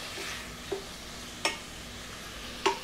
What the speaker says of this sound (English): Now let's put in the tomatoes. Stir them until they're soft.